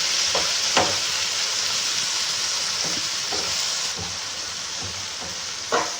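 Chopped tomatoes hitting hot oil with onion, garlic and ginger for chana masala, giving a loud continuous sizzle close by, with occasional soft spoon stirs and no talk.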